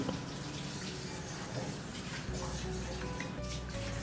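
Water pours steadily into a pot of washed toor dal, a continuous splashing rush that stays even and close throughout.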